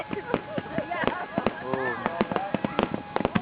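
Independence Day fireworks over San Antonio crackle and pop in rapid irregular bursts, close and sharp, while people talk and exclaim nearby throughout.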